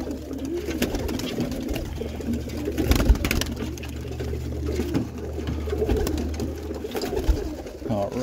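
Roller pigeons of a hen kit cooing steadily near a loft as they are let out, soft low coos running throughout over a constant background hum, with brief louder bursts and faint movement.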